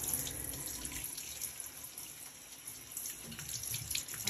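Warm tap water runs steadily into a bath while a baby is rinsed, a continuous close splashing stream with faint drips and no talking.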